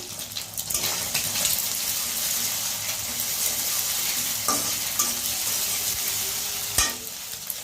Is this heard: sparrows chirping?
no